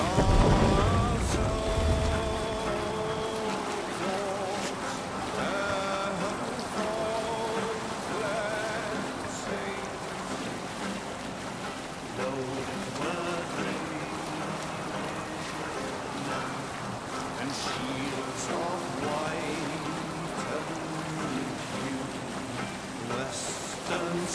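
A Viking longship sails in Assassin's Creed Valhalla, with a steady wash of waves and rushing wind under the hull that runs unbroken, while faint voices sit in the background.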